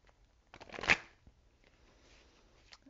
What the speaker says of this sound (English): I've already pre-shuffled, but I'm going to keep on doing so